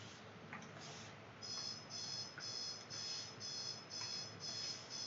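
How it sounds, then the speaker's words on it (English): An alarm clock rings in a room: about eight evenly spaced, bright electronic beep bursts, steady and fairly close, with no voices over them. "My alarm clock's going off"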